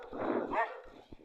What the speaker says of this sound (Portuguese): os cachorros me atacando